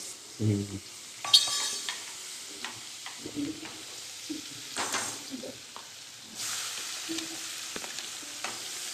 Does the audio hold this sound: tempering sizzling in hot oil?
yes